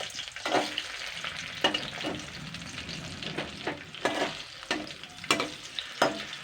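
Pieces of rui fish fry in hot oil with a steady crackling sizzle, broken by sharp scraping clatters as each piece is turned over.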